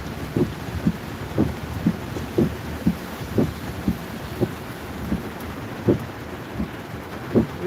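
Steady rain with wind rumble over the Lickey Hills, North Worcestershire, punctuated by repeated low thunder thumps rolling through at a regular pace.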